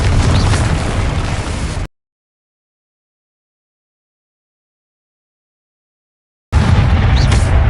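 Confringo spell explosions in Hogwarts Legacy, loud roaring blasts of burst noise at the start and again at the end, separated by several seconds of dead silence.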